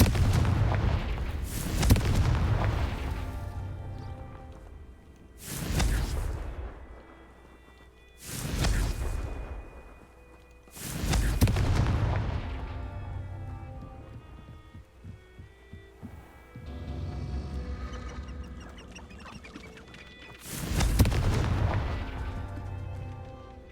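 Confringo blasting spells fired repeatedly in Hogwarts Legacy, a series of about five loud booming bursts spaced a few seconds apart, each with a deep rumbling tail, alone without talk.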